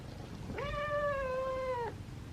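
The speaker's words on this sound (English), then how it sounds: "has like the deepest meow for such a petite girl" A petite female feral cat named Nancy gives a single deep, drawn-out meow lasting over a second, clear and close, with no talking over it.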